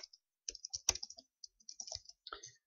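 Quick, irregular bursts of close computer-keyboard typing as brokerage details are entered into a form, crisp clicks separated by short silences in a quiet room.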